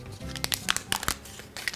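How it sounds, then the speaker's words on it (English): Paper liner being peeled off a homemade dark chocolate peanut butter cup, giving a close series of sharp, irregular crinkles and small tearing crackles. "You just wanna make sure to take off this paper lining"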